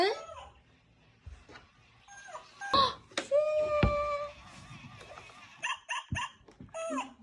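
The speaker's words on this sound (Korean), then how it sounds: "멍멍이가 놀러 왔네." A dog makes whining, moaning vocal sounds in a small indoor space while visiting, with a few short yips and higher whimpers in between and some quiet rustling between the calls.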